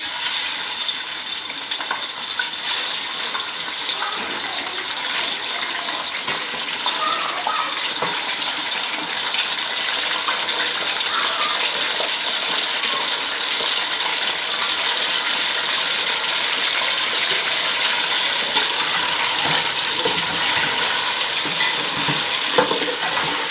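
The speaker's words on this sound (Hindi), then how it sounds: "अब हम चिकन को फ्राई करेंगे।" Chicken pieces frying in hot ghee in a pan for a chicken aloo curry, giving a steady, dense sizzle and crackle that holds evenly throughout, close and fairly loud with no talking.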